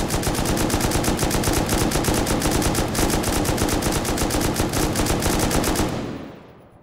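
Sustained rapid automatic gunfire in the survival game Rust, a loud, dense burst of evenly spaced shots lasting about six seconds before cutting off and fading into quiet.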